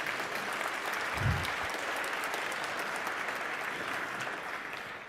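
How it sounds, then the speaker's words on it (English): A room full of guests applauds for Michael's 86th birthday, a sustained even wash of clapping from many hands at moderate distance, with a brief low thump near the start. "Let's give it a round of applause."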